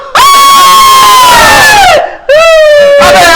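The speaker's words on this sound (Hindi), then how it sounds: "अबे मेरे कान में क्यों चीख रहे हो?" Two loud, sustained shouts blasted straight into someone's ear by several voices at once, very close and piercing, separated by a brief pause.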